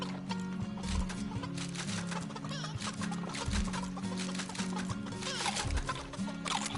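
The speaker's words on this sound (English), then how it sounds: "That's right, eat my chickens." Chickens cluck in the video game Fortnite, in a busy tycoon farm scene, clucks scattered over a steady, dense mix of game sounds and music with no speech.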